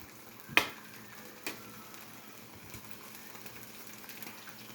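Eggs frying in a pan give off a soft, steady sizzle, fairly quiet, broken by a sharp tap near the start and a lighter click a moment later.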